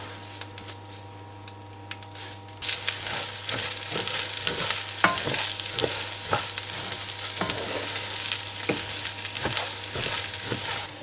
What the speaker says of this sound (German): Ich brate hier jetzt einmal etwas Butterschmalz an und brate den Reis so ein bisschen mit an.